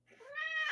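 A domestic cat gives a single short rising meow, close and clear, lasting under a second with nothing else around it.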